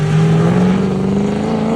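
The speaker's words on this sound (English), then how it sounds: "We're having a bit of a drive now." A Ford Mustang car driving, its engine giving a loud, steady, close drone with a strong low hum and no talk over it.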